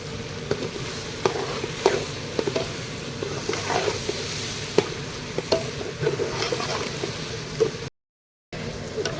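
Spice masala sizzles as it fries in a pan, with a steady crackling hiss broken by repeated scrapes and clinks of stirring, close up and without talk, cut by a short gap of silence near the end.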